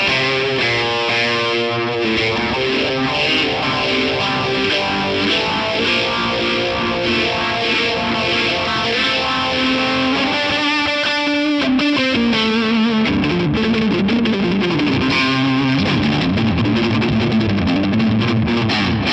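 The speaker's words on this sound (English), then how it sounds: "Now I'll add some delay and reverb, once again courtesy of the Halo and the Hydra." An electric guitar runs through a Mosferatu overdrive pedal with Halo delay and Hydra reverb, playing sustained distorted chords and notes with thick echoing tails, loud and continuous with no voice.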